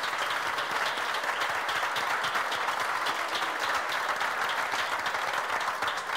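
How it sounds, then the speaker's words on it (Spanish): An audience at an energy transition talk breaks into steady, dense applause lasting several seconds, many hands clapping evenly at a moderate level with no voices on top. "Jo crec que us mereixeu un aplaudiment"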